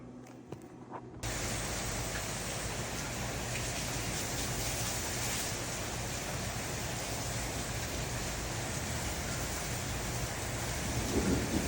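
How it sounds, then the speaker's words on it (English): A heavy thunderstorm begins abruptly with dense, roaring rain and rolling thunder, loud and continuous outdoors, a broad wash of sound with no voices. "I'm just out here watching the storm."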